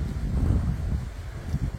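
Low, buffeting wind rumbles against the microphone throughout, a steady muffled roar with gusty swells and no voices.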